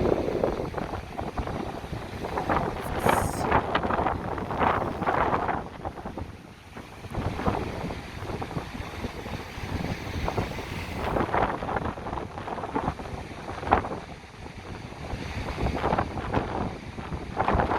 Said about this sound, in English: as you can probably hear, it's super breezy. It's really nice. It's and not a cold wind at all